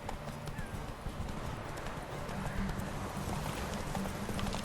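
Roach, Geralt's horse in The Witcher 3, gallops with a rapid, steady clip-clop of hooves, close and fairly loud over a bed of ambient game noise.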